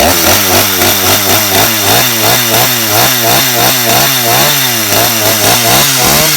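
A STIHL chainsaw runs loud and close, its engine pulsing in a fast, steady rhythm with no talking.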